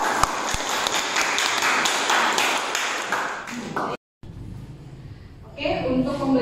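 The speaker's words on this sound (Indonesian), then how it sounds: "Berikan tepuk tangan." A burst of applause from a group fills the first four seconds, then a brief silence, followed by a voice speaking.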